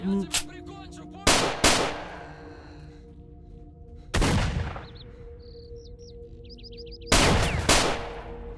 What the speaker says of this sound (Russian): Блин, ну стрельба прикольная.